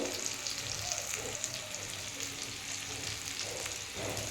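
Ground spices — chilli powder, turmeric and cumin — frying in a pan with taro stolons and shrimp, giving a steady close sizzle with faint stirring throughout, no talk.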